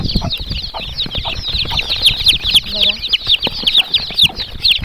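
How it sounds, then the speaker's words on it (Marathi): Dense, rapid high-pitched peeping from many Kadaknath chicks, two to three days old, fills the clip, with a brief spoken word partway through. "कडकनाथ कोंबडीचे पिल्लू आहेत"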